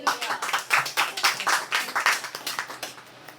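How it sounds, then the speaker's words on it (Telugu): A congregation at a Telugu church sermon claps hard in a fast, even rhythm, with many sharp hand claps that ease off and fade toward the end. "గట్టిగా చప్పట్లు కొట్టండి"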